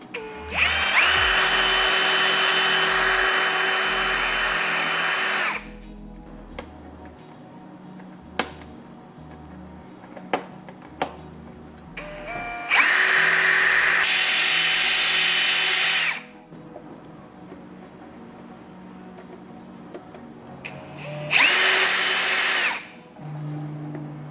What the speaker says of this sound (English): when you drill your holes in the back side